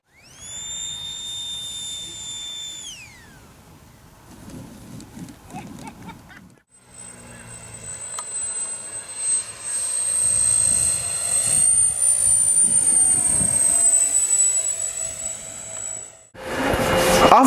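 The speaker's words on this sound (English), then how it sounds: "Check out the landings." A 3D-printed radio-controlled Boeing X-32 model jet comes in to land, a high whining electric ducted-fan tone that rises, sweeps in pitch and cuts off abruptly, with rushing air noise underneath.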